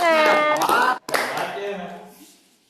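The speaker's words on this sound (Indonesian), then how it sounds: "Tepuk tangan." Students in a biology class clap close by while children's voices and chatter run over the top, with a short pause partway through before the sound tails off.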